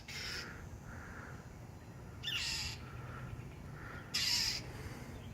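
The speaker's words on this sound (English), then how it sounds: "Oh, bird attack, bird attack." An attacking bird calls with harsh caws, three loud bursts spread over several seconds with fainter calls between, heard from nearby with no talking.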